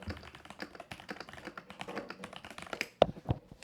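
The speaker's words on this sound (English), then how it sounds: "that was my typing" Computer keyboard typing, a run of quick, irregular key taps close by, growing sparser with a couple of sharper clicks near the end.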